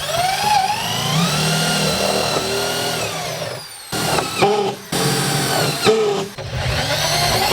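Power drill driving self-tapping screws into a drum and frame while building an electric boat, several loud whining bursts separated by short pauses, close up.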